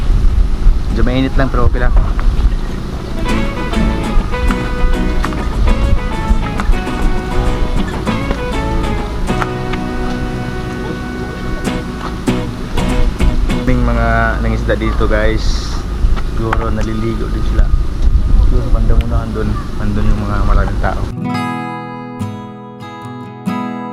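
Strong wind roars and buffets against the microphone on a moving boat, loud and constant, with people talking over the noise.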